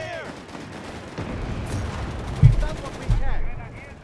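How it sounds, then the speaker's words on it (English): Mortar crew firing airburst shells from a Flak 36 position in Company of Heroes 3, a dense barrage of booms and gunfire with two sharp, louder blasts near the end over continuous battle rumble and a talking voice. "Airburst shells here being utilised by the mortar crew here on the Flak 36."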